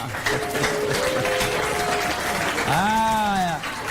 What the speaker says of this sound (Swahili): makofi wapigie jamaa